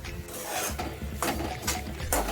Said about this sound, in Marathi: गॅसची फ्लेम एकदम कमी ठेवून आपण छान रवा भाजून घेणार आहोत.